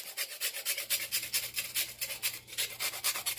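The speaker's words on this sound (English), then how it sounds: "So I'm going to just grind in some chocolate like this." Chocolate being grated into a pot of chicken mole sauce, a steady close rasping of repeated rubbing strokes with a low background hum and no talking.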